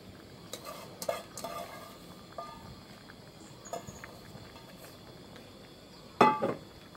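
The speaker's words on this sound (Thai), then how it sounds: "โอเคเราใส่ผักลงไปนะคะใบชะพลูแล้วก็เอามาหั่นเนี่ยค่ะ" Snail curry with betel leaves is stirred in a pot, with soft scattered utensil scrapes and taps over a quiet simmer, then a sharper clank of metal near the end.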